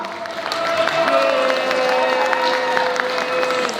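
An audience applauds a women's folk dance group at a Polish stage event, dense sustained clapping and some cheering from a large crowd, steady and fairly loud throughout.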